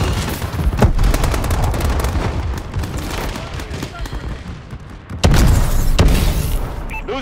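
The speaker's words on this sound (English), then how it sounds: "Enemy bombing run incoming." Enemy bombing run in a Call of Duty Advanced Warfare domination match: heavy explosions and dense gunfire crackle continuously, with a sharp loud blast near the end amid constant battle noise.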